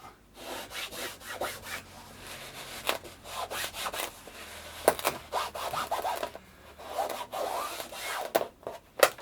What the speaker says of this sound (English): That noise is the actual board sticking to the table, not the fabric.